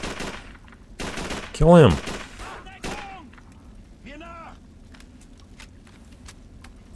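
Gunfire from the Call of Duty 3 video game on PS3: a few sharp shots and a loud burst amid battlefield noise, with a voice speaking briefly over the action.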